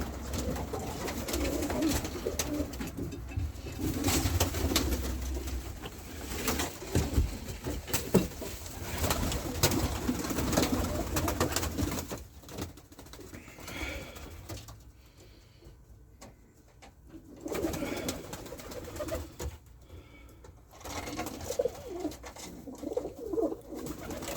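Pigeons coo repeatedly in soft, rolling calls inside an aviary, with occasional rustling and quieter gaps between bursts of cooing.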